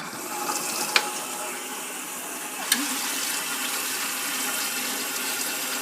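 Washing machine running with water while wool fleece is washed: a steady watery churn and hum, with two brief mechanical clicks standing out early on.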